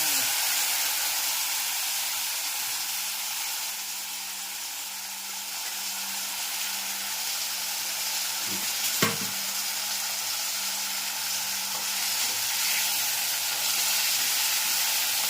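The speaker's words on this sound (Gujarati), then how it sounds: "સરસ મજાનો વઘાર થઈ જશે." Steady loud sizzling of cumin, fenugreek powder, chilli and curry leaves in hot oil, a continuous hiss with one brief clatter partway through, close up and without voices.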